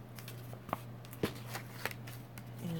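Scissors cut a thin strip off a paper envelope with a few quiet, separate snips over a steady low hum, close by and with no talk.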